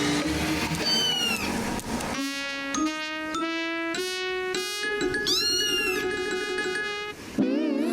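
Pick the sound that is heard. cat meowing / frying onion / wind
cat meowing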